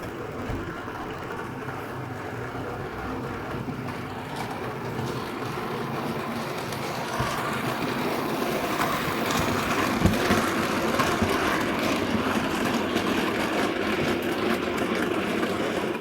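A Hornby Thompson A2/3 model locomotive runs past with its train of vans, giving a steady close rumble and clatter of wheels on track that swells slightly midway, with no voices.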